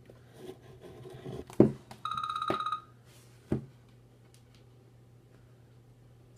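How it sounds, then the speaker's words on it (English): A phone rings with a short burst of repeated electronic trilling tones, fairly close, between soft knocks and handling noises in a quiet room. "My phone is ringing."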